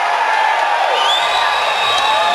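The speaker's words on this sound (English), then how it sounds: "As the crowd in Augusta making some noise" Crowd at an arm wrestling match in Augusta cheering and whooping loudly, a dense continuous roar with rising shouts, no clear speech.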